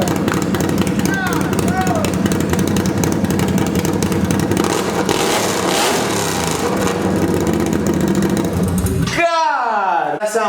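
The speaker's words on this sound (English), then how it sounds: "If you have never heard an open header exhaust on a 4-wheeler, it's honestly ear raping." A loud Can-Am Outlander ATV engine with an open header exhaust runs hard and rough, with a raw, blaring exhaust, then ends in a few sharp revs that rise and fall.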